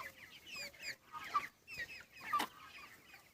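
Broiler chickens cluck and call in a straw-floored poultry farm shed, several birds giving short overlapping clucks in bursts with brief pauses between, close and moderately loud, with no talking.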